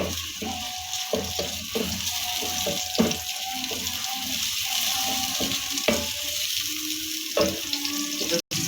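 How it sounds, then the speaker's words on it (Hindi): Chopped onions fry in a pan, a steady close sizzle with scattered scrapes and knocks of stirring running throughout, ending in a brief silence before the frying resumes. "कटा हुआ प्याज हमने शामिल कर दिया है। इसे हमने अच्छे से भून लेना है"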